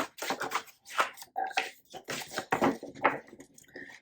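A deck of playing cards being shuffled up close at a table, a quick series of soft riffling and tapping bursts, fairly quiet with no talk over it.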